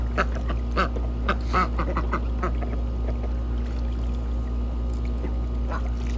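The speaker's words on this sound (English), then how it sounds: "The four big ducks take the small pool." Ducks quack in scattered bursts over a steady low hum, with running water faintly underneath and no talking.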